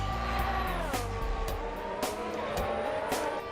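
Engine of an F1 car in a racing video game at Le Mans, a loud continuous high-revving drone with pitch sweeps as gears change, plus brief squeal-like bursts, no talk.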